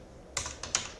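Three crisp keystrokes on a computer keyboard, the last a firmer press of the Enter key, close and fairly quiet with no talk.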